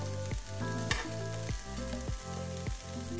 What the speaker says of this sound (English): slow cook the meat till it becomes evenly browned, not necessarily crispy